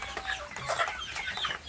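Free-range village chickens cluck busily at feeding time, a flock of hens with a rooster making overlapping short clucks and calls close by, with no talk.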